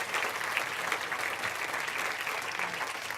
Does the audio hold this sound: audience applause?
yes